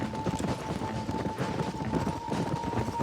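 A horse gallops in Red Dead Redemption, its hooves pounding in a fast, steady rhythm up close amid game ambience, with no clear talk.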